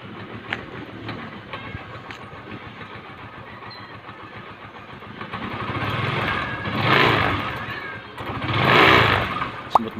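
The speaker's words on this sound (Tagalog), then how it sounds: "paandarin po natin yung makina ng motor natin para po mag-circulate yung langis. Start po natin." A four-stroke motorcycle engine starts up after an oil change and runs close by, its steady idle swelling twice in louder revs toward the end, with no talking.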